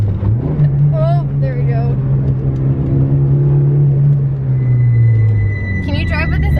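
A Toyota Cressida fitted with an LS V8 runs at its first start, a steady low engine drone with a slight rise in pitch, heard close and loud under people talking.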